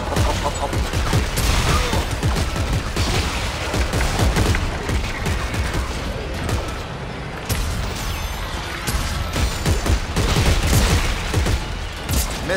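Rapid, continuous gunfire from the Dead Space 3 video game, dense bursts of shots and booms filling the whole stretch at loud volume, with no clear talk over it.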